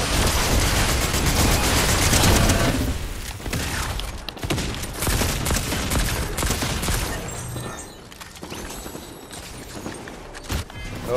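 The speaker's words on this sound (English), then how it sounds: "We got someone taking pop shots." Video game gunfire, a heavy sustained barrage of rapid shots that dominates the first few seconds, then continues as scattered bursts and single loud cracks at a lower level.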